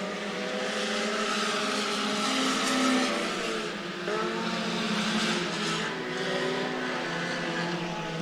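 Modified race cars and sport compacts roar around the dirt oval at Clay County Speedway in Iowa, a dense, steady wall of engine noise from a pack of cars that swells and dips slightly as they pass, with no talking.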